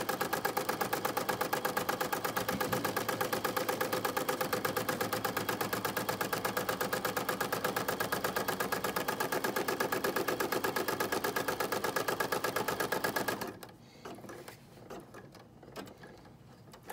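A home embroidery machine stitching out a square box outline, a steady rapid mechanical chatter of needle strokes running for most of the stretch, then stopping abruptly into near silence with faint handling.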